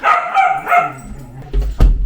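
Playing dogs bark close and loud, several sharp barks in quick succession followed by a higher yip and a thump, with no speech.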